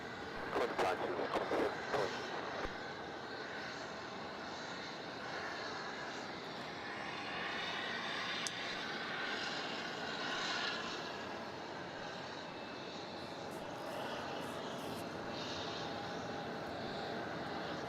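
A Scoot jet airliner begins its takeoff at Melbourne Airport, a low, even engine roar building and holding steady after a brief burst of louder noise at the start, with a few faint voices.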